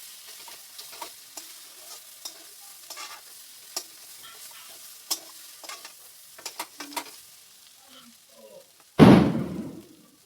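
Boiled medium potatoes stirred and fried with spices in a pan, soft sizzling under scattered spatula scrapes and knocks against the pan, ending in a sudden loud burst near the end, with occasional talk.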